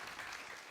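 A studio audience applauds at an Indonesian televised cooking competition, a steady wash of clapping heard faintly and continuously throughout, with no talk over it.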